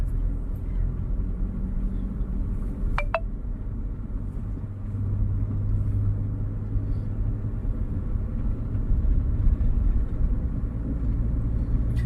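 Car creeping slowly through a narrow lane, heard from inside as a low steady engine and road rumble with a couple of faint brief clicks, no talking.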